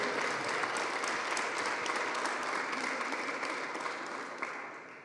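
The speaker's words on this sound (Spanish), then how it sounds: "vamos a darles un aplauso a ellos, que son los que están cada día trabajando junto a ustedes" A room full of people applauding at a public event with Uruguay's Social Development minister, steady, dense clapping that holds loud throughout and eases off slightly toward the end, with no voices over it.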